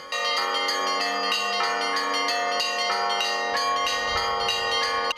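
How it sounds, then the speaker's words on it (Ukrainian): Church bells in a belfry in Lutsk ring out a melody on Independence Day, rich sustained tones struck in a steady rhythmic pattern, loud and resonant. "мелодію створювали не традиційні музичні інструменти, а церковні дзвони"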